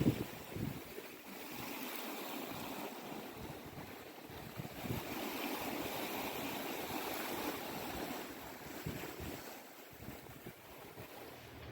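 Open Atlantic ocean waves wash around a sailboat mid-crossing at sunrise: a steady broadband rush of water and wind with gentle swells and microphone wind buffeting, no voices.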